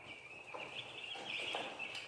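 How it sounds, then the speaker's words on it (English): Young Cornish Cross meat chickens in a brooder, a steady faint chorus of high, thin peeping calls with a few sharper chirps and no voices. "And we have our meat birds in here"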